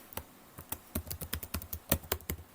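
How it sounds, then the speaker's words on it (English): Someone types an email address on a computer keyboard, a quiet, close run of brisk key taps in an uneven rhythm. "I'm going to type in their email."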